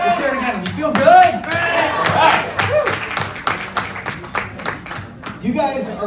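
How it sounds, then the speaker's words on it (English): Live audience at a Kangen Water and Enagic business presentation claps and cheers in a loud, sustained burst of applause filling the room, with voices calling out over it. "Give yourselves a huge round of applause"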